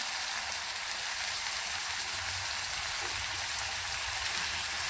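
Onion, tomato and coriander fry in a pan, giving a steady, even hiss of sizzling oil that holds at one level with no pauses.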